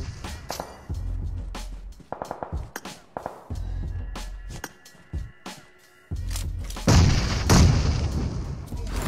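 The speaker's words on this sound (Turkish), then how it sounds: "Bomba attım bir tane de." A multiplayer shooter video game battle rings with repeated gunfire bursts and heavy booms, ending in a louder, sustained explosive roar consistent with a grenade blast, no voices over it.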